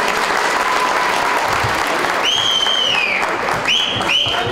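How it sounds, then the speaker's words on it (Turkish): Loud, dense applause from a village gathering for young performers of a poem, steady clapping throughout with whistle-like tones rising over it near the end. "Bir alkış gençlere."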